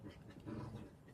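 Two dogs scuffle and pant indoors, heavy breathing and soft growly rustling coming through quietly and close for about a second.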